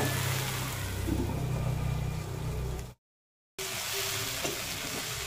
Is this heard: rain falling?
no